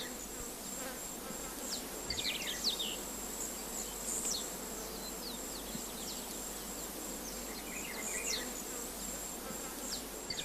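Oil-collecting bees hum steadily and continuously around oil flowers, close by, with faint insect and bird chirps scattered in the background.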